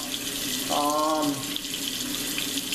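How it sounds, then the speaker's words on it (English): Hot water runs from a tap, rinsing out a bottle during REO battery maintenance: a steady, close splashing stream with a brief gurgling pitch rise as the bottle fills, no talk. "Just rinsing that bottle out."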